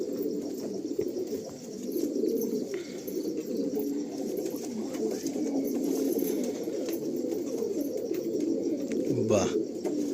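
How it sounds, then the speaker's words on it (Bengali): Andhra pigeons coo continuously in a loft, a dense low rolling murmur of many birds close by, with a few wing flutters and people talking over it. "না না, এই আন্ধ্রা পায়রা।"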